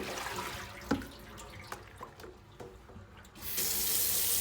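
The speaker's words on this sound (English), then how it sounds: "So all we need to do is simply take out our socks and we'll tip out that water." Water tipped out of a basin used for washing socks: soft splashing and a few drips, then a louder continuous pour of water near the end, quiet and close with no talk.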